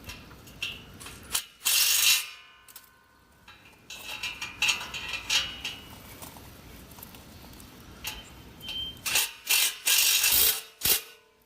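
Bolts on a fence gate hinge being tightened with a ratcheting tool, bursts of rapid metallic clicking separated by pauses and softer handling noise, close by and without talk.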